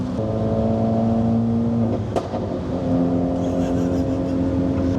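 A Hyundai Veloster N engine idles and revs nearby, with a brief crackling pop from the exhaust around 3000 rpm midway before the engine note settles back to a steady hum.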